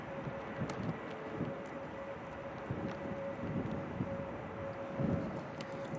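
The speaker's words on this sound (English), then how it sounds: "Just initiating the steady spool up now." Jet engines on an airliner spool up for takeoff at Manchester Airport during Storm Darragh's strong winds, a steady distant roar with a faint constant whine and gusty buffeting, no voices.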